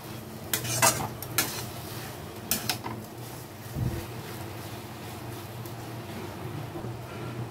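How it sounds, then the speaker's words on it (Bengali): Spoon scraping and clinking in a pot as grated coconut and sugar are stirred into Bengali taro curry, a few sharp metallic knocks early, then softer mixing with a faint sizzle and no talking. "এখন এই চিনিটাকে নারকেলটাকে আমি কচুর সাথে খুব ভালো করে একটু মিশিয়ে নেব।"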